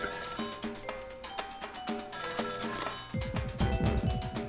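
Internal telephone in the Ghost Trick video game ringing in repeated bright bursts over game music, with a deeper rhythmic passage near the end.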